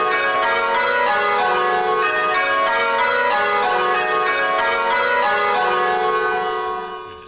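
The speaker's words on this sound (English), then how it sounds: "What we call a near miss, where it's nearly rounds, but 2 bells aren't the right way round." Six church bells ring change after change in a continuous, even rhythm with two bells swapped out of rounds order, the bright overlapping tones sounding close and clear before fading at the end.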